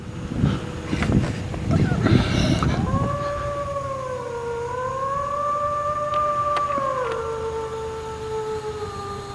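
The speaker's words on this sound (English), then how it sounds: "The howling echoes through the dense fog, long, drawn out, and not quite animal, and definitely not human" A long, drawn-out howl wavers through dense fog at Bigfoot territory, a sustained, gliding cry that follows a burst of rough noise and muffled voices, steady and fairly loud for several seconds.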